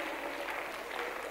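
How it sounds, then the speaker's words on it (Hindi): Short burst of steady audience applause at a Multan television music programme honouring a singer, a dense even patter of many hands with no voices over it. "एक और क्लैप मैडम के लिए।"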